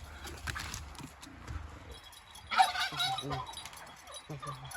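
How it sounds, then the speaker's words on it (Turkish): Chickens clucking and squawking in a yard, with a burst of louder calls midway and scattered shuffling and thumps around them. "görüyorsunuz tavuklarımızı"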